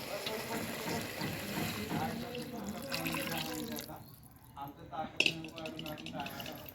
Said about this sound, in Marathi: आता आपण ह्याच्यामध्ये आंबट पाणी म्हणजे हिरव्या चिंचचा कोळ काढून घेतलेला टाकून घेऊया